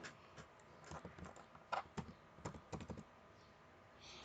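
Keys tapped on a computer keyboard as a username and password are entered, irregular bursts of close, quiet clicks with short pauses between them and no voices.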